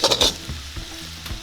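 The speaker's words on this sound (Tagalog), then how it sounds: "Tatanggalin na po natin yung fried rice natin sa ating kawali" Fried rice with pineapple chunks is scooped from a wok with a spatula, a few sharp scrapes and clinks up front followed by softer scrapes over a faint residual sizzle, close and without talk.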